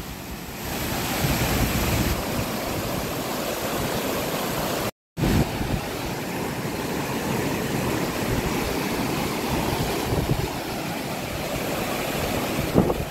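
Constant rushing water of a wide stream flowing nearby on a hiking trail, broad and steady with some wind buffeting the microphone, and a brief cut to silence partway through.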